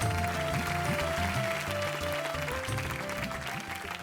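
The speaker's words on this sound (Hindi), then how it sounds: "जोरदार तालियां" Loud studio applause fills a Hindi television game show stage, steady crackling clapping running under bright, sustained music throughout.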